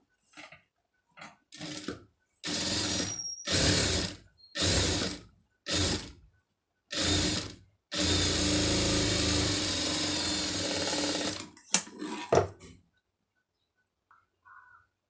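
Sewing machine stitching a silk border onto a blouse neck design, running in several short bursts and one long steady run, close and fairly quiet, with pauses between.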